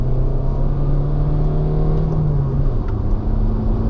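A 2021 Fiat Egea Cross accelerates from about 50 km/h, its engine tone rising steadily, dipping briefly as it shifts near the end, then climbing again over a constant road and tyre hum, heard from inside the car without talk.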